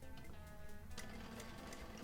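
An industrial sewing machine runs a long basting stitch for thread tracing a neckline, a steady close motor hum with fine rapid needle ticking throughout, no pauses.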